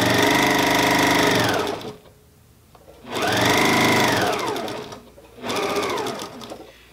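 A sewing machine stitches a fabric face mask in three loud, steady bursts of running motor and needle chatter, separated by short pauses, with no talk over it.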